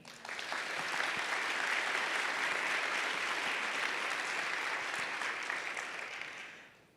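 An audience welcomes author Stephanie Land with sustained, dense applause from a full room, steady and loud throughout before fading away at the end.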